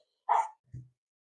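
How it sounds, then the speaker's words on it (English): A single dog bark rings out, then a lower, shorter bark-like sound follows; both are moderately close with silence around them. "excuse my dog if you can hear her barking."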